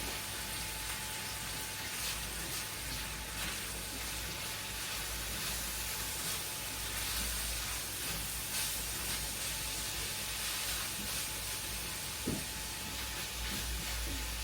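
Meat and onions fry in hot oil in a pan, a steady, dense sizzle and crackle that runs close and unbroken throughout, with no voices over it.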